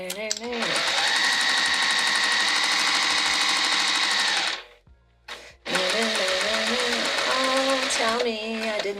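A sewing machine stitches a Fogerty bag in two loud, steady runs separated by a brief stop, humming continuously at close range.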